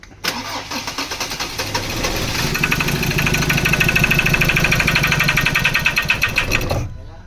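A 2013 Ford Ranger that will not fire cranks steadily for about six seconds, a loud, rhythmic starter churn with no catch, then cuts off abruptly.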